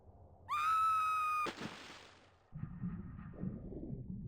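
A woman's high, sustained scream from the character Lara Croft in the Tomb Raider 2 video game, loud and close, cut off abruptly by a crash and followed by rumbling game sounds.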